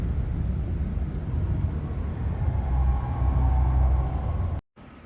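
A train at Main Street Station in Richmond gives a continuous low rumble and rolling clatter, fairly loud and steady, before cutting off abruptly near the end, with no talking.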